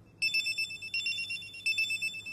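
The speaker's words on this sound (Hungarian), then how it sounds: "Csörög a telefonod!" A telephone rings in repeated short, bright bursts, about four rings in steady rhythm, fairly quiet and with no voices over it.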